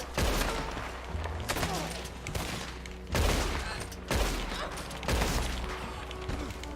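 Gunfire during an online Red Dead Redemption II gunfight on PS4, a series of sharp loud shots and bursts in irregular clusters over a constant game soundtrack, with a player's voice heard faintly.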